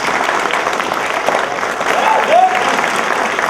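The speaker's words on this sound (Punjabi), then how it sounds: "ਉਹਨਾਂ ਵਾਸਤੇ ਤਾੜੀ ਮਾਰ ਦਿੰਦੇ।" A theatre audience applauds the crew of a stage play with loud, continuous clapping from a large crowd, a few voices faintly mixed in, steady throughout.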